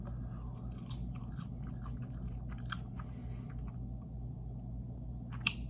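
Someone chews crinkle-cut fries close up, with soft repeated crunching bites over a steady low background hum and one sharp click near the end.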